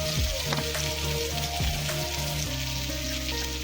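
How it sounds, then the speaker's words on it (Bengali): Potatoes frying in oil at an outdoor picnic cook-out, a steady soft sizzle with a few scraping stirs early on, moderately quiet and close, no voices. "কিছু আলুটা ভাজা হচ্ছে"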